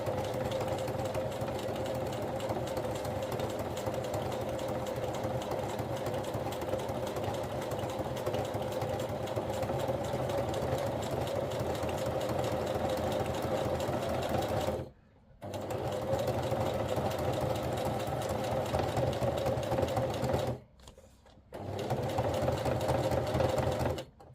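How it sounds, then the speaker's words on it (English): A sewing machine stitches slowly through a very thick journal cover, a steady close mechanical whir running almost continuously, broken by two brief stops partway through. "I'm just going to sew it slowly."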